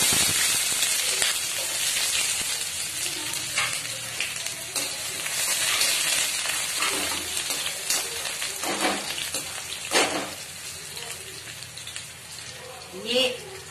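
Chopped onions dropped into hot oil with fenugreek seeds in a pan for kadhi, giving a steady bright sizzle and crackle with occasional stirring scrapes, under a person speaking nearby.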